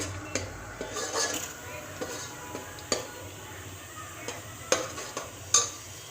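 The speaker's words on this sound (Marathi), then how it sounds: "त्याला छान परतवून घ्यायचं आहे बारीक गॅसवर परतवायचा आहे" Mutton masala sautéing on a low flame, a soft low sizzle broken by scattered spoon scrapes and clinks against the pan, close and fairly quiet.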